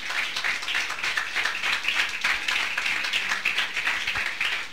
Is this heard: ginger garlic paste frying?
no